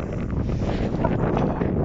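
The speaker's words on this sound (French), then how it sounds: "Bon, saleté de vent, hein." Outdoor wind buffeting a microphone during metal detecting, a steady loud rumbling roar with gusty fluctuations and no other clear sounds.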